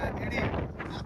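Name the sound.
strong wind blowing at outdoor location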